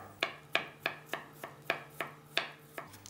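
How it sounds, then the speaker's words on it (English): A knife slicing fresh young ginger into thin julienne strips on a board, a quick, even series of about a dozen crisp chops at close range, each a sharp tap that fades fast, with no talk. "we're just going to slice it into little thin julienne slices"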